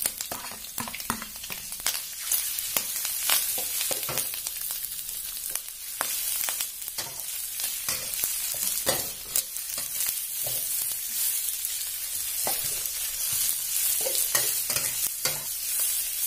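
Pickled mustard greens being stir-fried in a wok for a vegetarian festival dish: a constant sizzle broken by frequent, rhythmic scraping clacks of the spatula against the metal.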